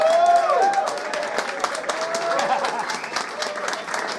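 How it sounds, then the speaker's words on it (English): A crowd at a Scottish vaping gathering breaks into loud, sustained applause, dense clapping that swells at first and holds steady, with a voice or cheer rising briefly over it near the start. "So give them and him a massive round of applause,"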